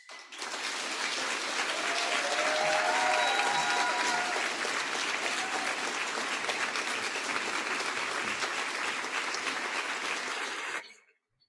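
Sustained applause from an audience at an awards celebration for access to justice, dense steady clapping filling the room for about ten seconds before cutting off, with faint voices underneath.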